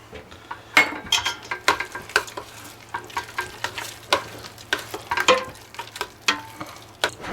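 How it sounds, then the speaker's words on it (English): Spoon scraping and clinking in a pot while heavy cream, salt and pepper are stirred into mashed red potatoes, irregular soft knocks and swishes over a faint low hum, close up with no talking. "We're going to stir in 2/3 cup of heavy cream, 1 teaspoon of salt, and 1 teaspoon of pepper."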